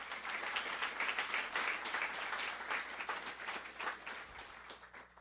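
Audience applause at a Guiding Eyes for the Blind guide dog graduation ceremony, honoring Perky and handler Kimberly Stein; steady, dense clapping from a crowd sustained throughout, easing slightly toward the end.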